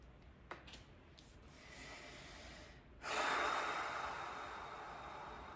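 A slow, deep breath drawn during a guided spiritual meditation, a brief soft inhale followed by a longer, louder airy exhale that lingers and fades, close and alone with no talking.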